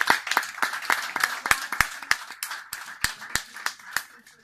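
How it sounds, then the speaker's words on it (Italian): Audience applause at a book event in Lecce, a small gathering whose sparse, distinct claps ring out as separate sharp snaps in an uneven rhythm, tapering off over a few seconds. "Un applauso."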